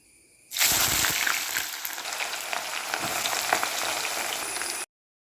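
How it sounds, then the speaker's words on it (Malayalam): Sliced onions fry in a small amount of oil, a loud steady sizzle that starts abruptly and crackles continuously for several seconds before cutting off, with no talking. "ഇതിന് നമുക്ക് ഈ സവോള ഫ്രൈ ചെയ്തെടുക്കണം"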